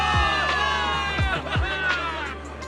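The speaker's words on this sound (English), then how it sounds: "Give it up for yourselves, soldiers! Cheer for victory!" A crowd of soldiers cheers for victory in the video game Zenless Zone Zero, with whoops and shouts over a sustained musical backing, loud and close throughout.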